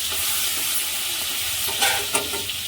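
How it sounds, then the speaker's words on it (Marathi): Tempering of asafoetida, green chilli and garlic paste crackling in hot oil, a loud dense continuous hissing sizzle with a couple of brief sharper pops near the end, close up and with no voices. "छान चढचडली आहे बघू शकता आवाज येतो"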